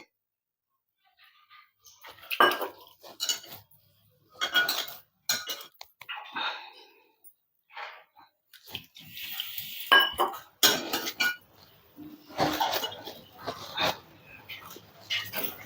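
Cooked lentil dough is mixed with a little water in a vessel, producing irregular scraping, clinking and sloshing knocks of metal utensils against the pot, close and intermittent, with a voice talking in places.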